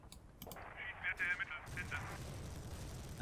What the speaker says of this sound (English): that's something getting strafed down there